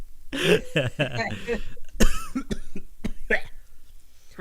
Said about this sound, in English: I have this weird cough all day